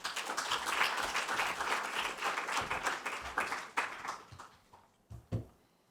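A crowd at a conference event applauds a speaker, a steady, fairly quiet wash of clapping that thins into a few scattered claps before falling silent.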